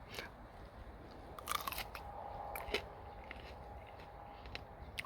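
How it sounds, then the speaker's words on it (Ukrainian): Quiet crisp crunching and chewing sounds of biting into a crunchy grape, close to the listener, with faint clicks and a soft background. "Я зараз спеціально хочу попробувати, щоб ви почули, який він хрумтящий."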